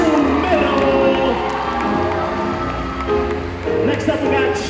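A school auditorium crowd at a Piano Slam student performance cheers, whoops and applauds loudly and steadily for several seconds, a dense roar of many voices with scattered shouts from children.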